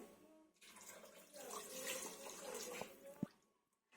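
Water poured from a glass into a pot of rice and chicken for pulao: a soft, continuous splashing gush lasting a few seconds, ending with a clunk and then quiet.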